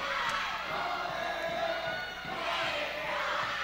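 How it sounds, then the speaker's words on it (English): A volleyball crowd at a high school Volley for the Cure match between Palmetto and Southeast roars and cheers continuously, loud and sustained with whoops throughout. "This crowd is going bananas right now."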